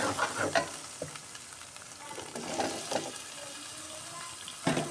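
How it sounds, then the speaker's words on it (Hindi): Drumsticks (sohanjna) and potato pieces fry in a pan, a steady close sizzle broken by repeated scraping stirs of a spoon, several distinct knocks and rattles, no talking. "स्वांजने और आलूओं की हमने अच्छे से भुनाई करनी है"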